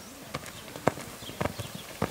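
A palomino purebred Lusitano horse moves along at a stud farm, ridden without reins while showing its jumping ability; its hooves give a series of light, irregular clip-clops, moderately close, with faint background noise between the strikes.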